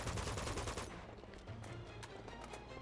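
An M4 rifle fires in the Uncharted 2 video game: a rapid burst of automatic shots opens, then scattered sharper single cracks follow over a steady background.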